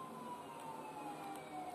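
A police siren from the video game GTA 4 wails steadily in a continuous sweeping tone over a constant background of game noise, fairly faint and with no talk.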